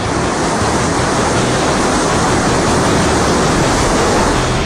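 Surging floodwater in a swollen river during heavy monsoon rains, a dense, loud, unbroken roar of churning waves filling the whole span with no voices.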